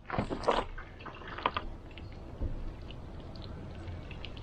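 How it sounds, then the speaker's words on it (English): Water is poured over the body of a Volvo 240 for a leak test, with a few splashing bursts early on followed by quieter trickling and dripping. "Just top up the water."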